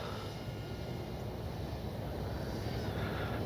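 A Dynam DHC Beaver V2 radio-control plane on its maiden flight drones steadily overhead, a continuous broadband engine and propeller hum at fairly constant level without pauses.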